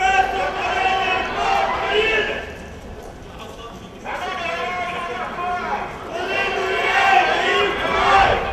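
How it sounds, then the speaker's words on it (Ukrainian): Marchers with their pets parade through city streets at an animal-protection rally, a crowd chanting slogans in loud rhythmic bursts with a brief lull between, street noise continuing underneath. "пройшли ходою вулицями серед містя, вигукуючи заклики гуманного поводження з тваринами"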